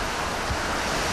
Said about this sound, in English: Tokyo takes a battering from high winds and driving rain.